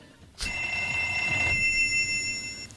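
Telephone ringing during a presentation, one loud electronic ring that bursts in abruptly, holds about a second, then rings faintly on as a quieter tone to the end.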